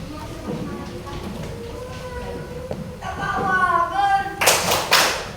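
Children in a fourth-grade classroom do a rhythmic clapping chant, with young voices chanting over talk and then sharp, loud bursts of group clapping near the end.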